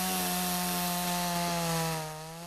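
A chainsaw cuts through the large spreading roots of a century-old, 18 m, 15-tonne pine being dug up for relocation, its steady high engine whine running loud and close throughout, easing slightly toward the end.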